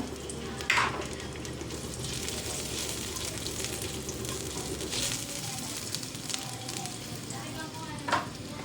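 Ginger hitting hot oil in a cooking pot for tinola gives off a steady, close sizzle and fry hiss that runs unbroken throughout, with a few brief louder crackles.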